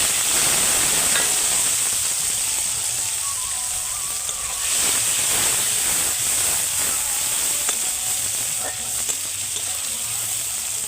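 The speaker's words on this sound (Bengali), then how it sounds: "একই তেলে দিয়ে দেবো কিছুটা গোটা জিরে। দেবো টমেটো।" Tomato and whole cumin seeds sizzle steadily in hot oil, a continuous bright frying hiss with a few stirring scrapes, loud and close, with no talking.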